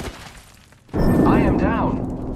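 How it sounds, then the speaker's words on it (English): In a squad-based shooter video game, a grenade goes off with a sudden loud boom that rolls on as a sustained rumbling blast for over a second, while a voice calls out over it. "Look out, grenade!"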